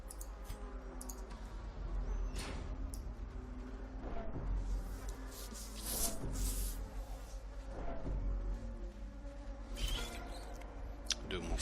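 Mosquito enemies buzz in a Darkest Dungeon battle, a wavering insect drone that swells and fades with scattered clicks, and a voice talks over parts of it.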